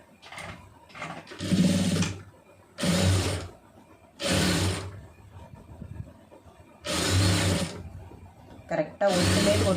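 Sewing machine running stitches along a blouse edge in short bursts of mechanical whirring with pauses between, close and fairly loud, with a voice talking in the gaps.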